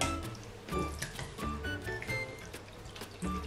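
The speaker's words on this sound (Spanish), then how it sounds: "Aplastamos bien las verduras para que suelten su jugo y sabor." Cooked vegetables being mashed in a pot while wine sauce is strained off, soft wet squishing and dripping liquid in quick irregular bursts, close and quiet.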